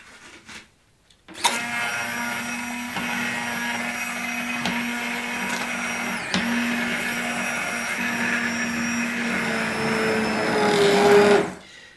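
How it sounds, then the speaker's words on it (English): A blender or hand processor purees cream of potato soup in a steady, loud motor whir that starts abruptly after a short pause and runs continuously, rising slightly near the end before cutting off. "you can make cream of potato soup, which is really relatively easy to do if you have a hand processor or a blender"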